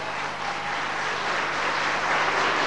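Wedding guests applaud right after the couple's vows at a wedding ceremony: a steady, dense wash of clapping that fills the whole stretch at an even level, with no talking over it.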